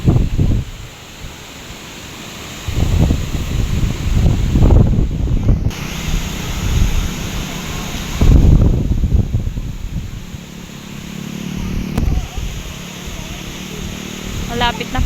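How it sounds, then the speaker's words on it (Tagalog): Strong wind roars and buffets the microphone in uneven gusts, outdoors near damaged huts during a storm. "Grabe po ang hangin"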